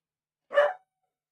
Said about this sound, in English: now he's barking